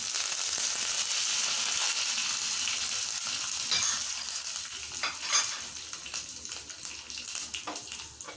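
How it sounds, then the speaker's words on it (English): Curry leaves drop into hot seasoning oil with the flame switched off, giving a bright, crackling sizzle that flares sharply in bursts, then settles into a steady hiss with a few stirring clinks near the end. "and then add curry leaves."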